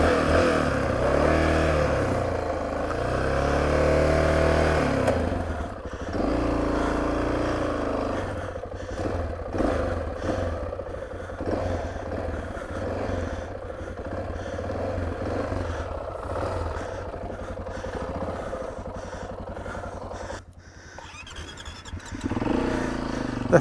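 A Honda XR650R dirt bike engine idles and revs unevenly on a mountain trail, a close, rough thumping drone that rises and falls before dropping off near the end.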